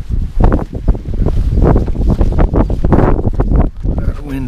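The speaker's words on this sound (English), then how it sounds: "That wind is cold though." Cold wind gusts steadily across a lakeside campsite in Haugastøl, producing loud, continuous microphone buffeting with rumbling low rushes that rise and fall throughout.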